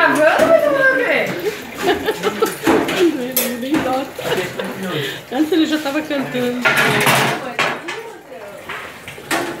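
Dishes being washed by hand, with pots, plates and cutlery clattering and clinking near and loud in quick, irregular bursts while people talk and laugh over the noise.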